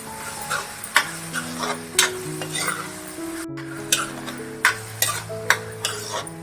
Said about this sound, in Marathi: चांगला टॉमॅटो पण परतून घ्यायचा आहे